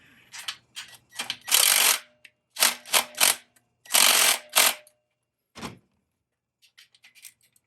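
A ratchet tightens a slider bolt on a 2021 Kawasaki ZX motorcycle, with bursts of rapid clicking separated by pauses, close and distinct, then a few quieter taps.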